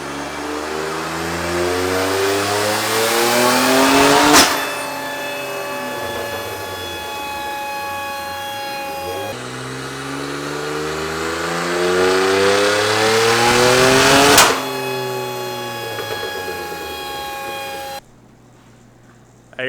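A car engine on a dyno revs hard twice, each run climbing steadily in pitch to a loud peak before cutting off and winding down, recorded close with no talking.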